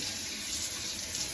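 A water tap runs in a steady close splashing hiss while a small dog is bathed, with no voices.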